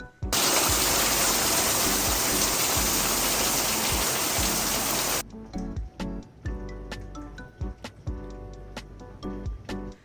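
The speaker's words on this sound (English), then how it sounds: "So it is pouring outside. Yet another storm." Heavy storm rain pours down outside, a loud dense hiss that cuts off abruptly halfway, leaving scattered sharp drips and taps.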